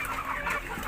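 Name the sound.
native chickens clucking at feeding time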